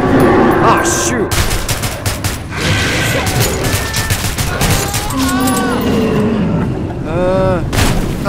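Rapid bursts of gunfire from the video game Metro 2033 rattle loudly and almost continuously, with mechanical clatter and a brief musical tone, while a player's voice cries out over the shooting.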